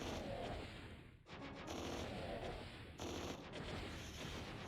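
Sustained machine gun fire from several enemies in the Stranger Things 3 video game, a dense, loud, continuous rattle with short dips, as if several guns fire at once.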